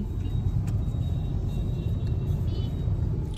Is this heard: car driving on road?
yes